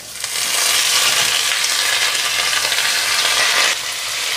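Peanuts and potatoes fry in a pan with a loud, steady sizzle that dips briefly near the end, close and continuous with no talking.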